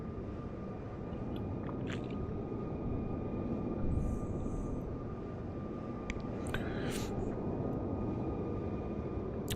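A simulated jet airliner lands at Frankfurt in Microsoft Flight Simulator 2020, with a steady, broad engine roar running throughout, thin whining tones above it and a few faint clicks.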